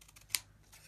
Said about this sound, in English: I think I'll cut the straight edges and then go cut the corners afterwards.